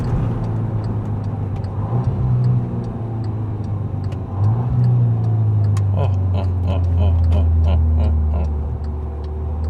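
A 2014 VW Scirocco R pulls hard up through the gears from second, its engine note rising loud and close from inside the cabin with sweeps between shifts and faint ticking over the top.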